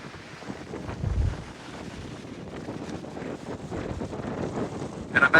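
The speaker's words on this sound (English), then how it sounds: "Once you get around the backside of these islands, it's always windy." Strong wind buffets the microphone on the windy back side of Maui's coast near the Olivine pools, a continuous rumbling roar with gusts swelling and easing, with no talk.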